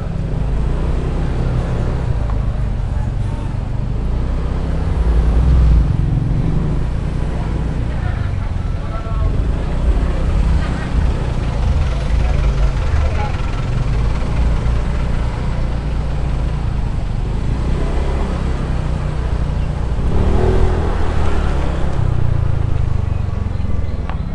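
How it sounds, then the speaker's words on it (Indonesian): Slow, congested traffic crawling at about 10 km/h on a steep mountain road between Pujon and Batu, heading toward Malang. Vehicle engines rumble low and steadily throughout, with a continuous broadband road roar. "Untuk kendaraan dari arah Kediri menuju arah Malang pun nggak bisa berjalan cukup cepat"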